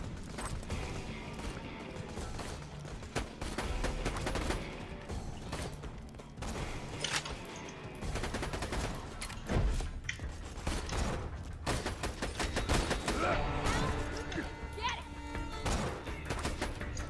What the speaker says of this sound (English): Using a sniper as an SMG.